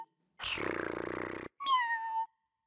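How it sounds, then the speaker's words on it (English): A FurReal Friends electronic toy cat gives a long rough, buzzing growl, then a short high mechanical meow, both synthetic-sounding with silence around them. "makes playful kitty sounds"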